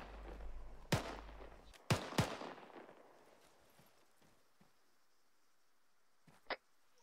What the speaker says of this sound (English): Teruskan menembak, cover fire, southeast.